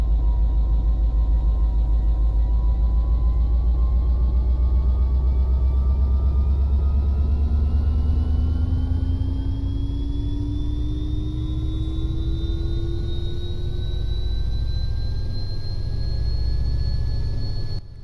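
The diesel engine of an F40PH locomotive at 900 RPM in Train Simulator Classic gives a loud, continuous low rumble. Slowly rising whining tones run over it for the full length, with no voices.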